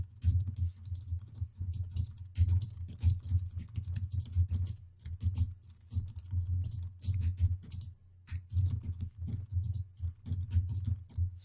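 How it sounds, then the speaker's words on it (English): Steady typing on a computer keyboard while entering code, quick irregular clusters of soft clicks with brief pauses, close and fairly quiet, no talk. "let me just type in this little message"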